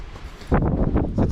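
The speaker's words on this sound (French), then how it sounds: "On n'est pas très haut et heureusement il y a du vent de ouf." Strong wind on a Pyrenees hiking trail at about 761 metres, gusting and buffeting into the microphone as a loud rumbling roar that surges midway and stays heavy, with no talk.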